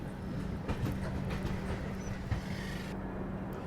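A train pulls into Renigunta Junction railway station, a steady low rumble of wheels on track with faint rhythmic clacks, heard from inside the coach and fairly muted, with no talking.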